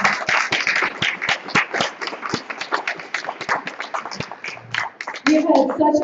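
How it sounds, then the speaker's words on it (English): Conference audience applauding at an evening session of a spiritual gathering, dense continuous clapping from many hands, fairly close and steady, with a voice briefly speaking near the end. "Paola Harris, can we have another round of applause?"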